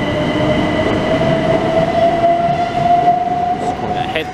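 Southeastern Class 395 high-speed train departing Ashford International for London St Pancras, a loud steady rumble of wheels on rail with a sustained high whine throughout, heard close on the platform.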